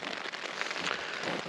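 Relentless rain on a tent during solo camping on top of Kinder makes a dense, steady patter, close and fairly loud, with no talking.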